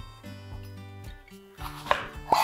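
A knife minces a small onion on a board, landing two crisp, close chops near the end over steady background music, with no talking.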